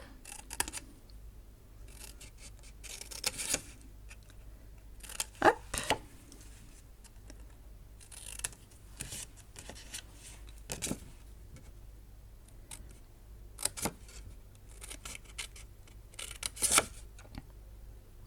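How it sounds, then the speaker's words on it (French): Small scissors snip out stamped paper shapes in short bursts of crisp clicking cuts, separated by quiet pauses and faint paper handling; a voice briefly speaks. "pour découper ces tampons, il est super ce petit ciseau"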